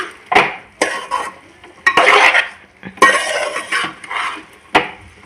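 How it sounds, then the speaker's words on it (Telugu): Rice and vegetables are stirred in a pan for veg pulao, with repeated sharp scrapes and clinks of a spoon against the metal pan in irregular bursts, close and fairly loud, with no talk. "ఇప్పుడు దీన్ని మంచిగా కలుపుకోవాలి బియ్యం కూడా వీటితో పాటు ఫ్రై కావాలి"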